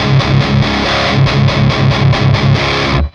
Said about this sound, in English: You hear that interesting layer on the distortion? It's not really fizzy, it's sizzly in a nice way, in a very unique way, especially with the palm mute.